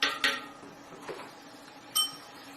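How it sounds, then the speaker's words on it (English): Metal utensil clinks against a pot of boiling mushroom-juice Lo Han Jai, several sharp scraping taps at the start and a couple more later over a low simmering background. "Just stir it a little bit."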